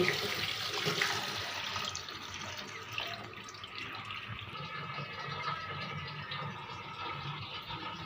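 Tap water runs steadily into a sink while ingredients are rinsed, a continuous splashing and gurgling wash at moderate distance with no voices.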